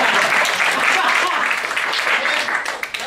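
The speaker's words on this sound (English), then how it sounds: "You can applaud." Studio audience on a game show clapping and cheering together, a dense continuous burst of applause that holds steady and then starts to thin out.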